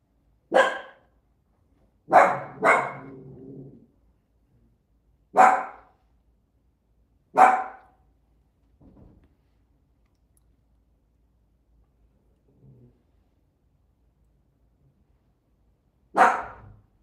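Dogs bark in sharp, widely spaced bursts, a few single barks and a quick pair, with faint low snuffling sounds between them in an otherwise quiet room.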